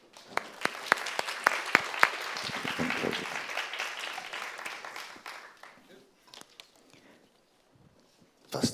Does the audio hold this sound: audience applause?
yes